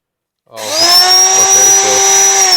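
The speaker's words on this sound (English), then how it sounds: "this Dremel has always been a little finicky with the contacts" A Dremel rotary tool switched on after a moment of silence, spinning up quickly to a loud, steady high-pitched whine that holds close and constant with slight wavering.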